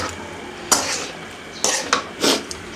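Ground spices being stirred into cabbage and potato curry in a pot over a village-style fire, heard as a few loud, close scrapes and clanks of a spoon against the pot, separated by quieter pauses.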